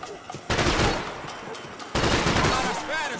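Loud bursts of gunfire in the video game Max Payne 3, two heavy volleys of rapid shots with ringing tails and ricochet-like whines, close and dense.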